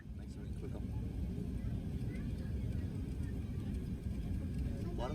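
A Qantas Airbus A380 taxiing to its gate at Heathrow Terminal 3, heard from inside the cabin as a steady low rumbling drone of engines and airframe, with no distinct events.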